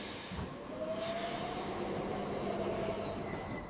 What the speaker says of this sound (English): Train arriving on platform 2.